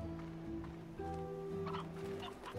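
Chickens in the game Slime Rancher cluck in short, quiet bursts over a low steady hum. Several soft clucks overlap near the end.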